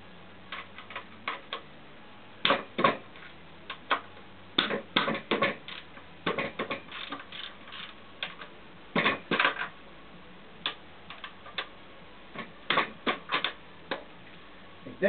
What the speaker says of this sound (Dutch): Ik denk dat het tijd wordt voor een nieuwe rateldop, omdat die bij mij gewoon uitgesleept is.